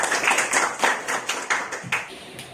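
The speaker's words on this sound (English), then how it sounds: "And big applause for us." A classroom of students claps after a greeting card project activity, a loose run of separate hand claps in uneven bursts, moderately near and fading toward the end.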